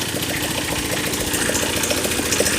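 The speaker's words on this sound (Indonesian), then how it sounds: "Nah, ini mesinnya dinyalain." The engine of a concrete mixing machine for making precast U-ditch runs with a loud, rough, steady chugging rhythm.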